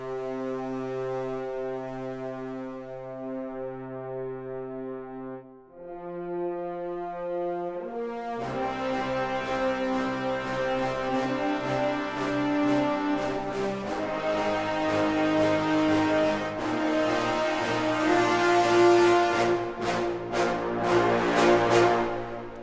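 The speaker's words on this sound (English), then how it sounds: "Just want to listen to the brass on its own." Brass section from the 8Dio Majestica orchestral sample library playing alone: low sustained chords, then a fuller, brighter swell of layered horns building louder toward the end, with no talk.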